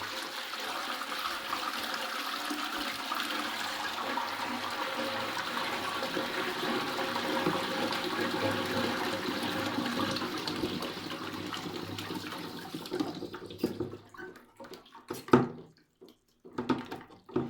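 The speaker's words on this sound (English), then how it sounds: "let's try to flush so that we can get to understand how it operates" A household flush toilet flushing, the tank water rushing through the siphon pipe in a loud steady roar that lasts about thirteen seconds, then breaks into gurgles and drips as the flow stops.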